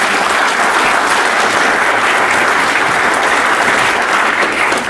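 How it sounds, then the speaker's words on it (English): Loud, sustained applause from a large audience, steady clapping filling the whole stretch without a break. "So please give them a round of applause."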